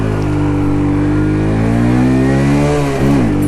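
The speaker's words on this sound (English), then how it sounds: "I got to be careful with talking over the bike's RPM" A 2018 Yamasaki YM50-RE motorcycle engine revs loudly and close, its buzzing tone climbing steadily in pitch, then dropping sharply near the end before picking up again.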